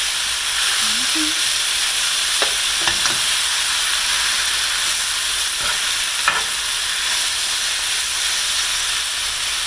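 Beef tips frying in oil, a loud continuous hissing sizzle close up, with a few brief clinks and scrapes from stirring partway through and no voices.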